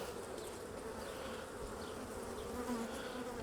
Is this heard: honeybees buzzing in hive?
yes